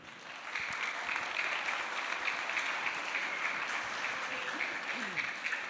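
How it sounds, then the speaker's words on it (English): Quiet applause from a conference audience at a UNESCO campus event on women and climate change, soft continuous clapping heard at a distance. "Armel, je vous demande de l'applaudir."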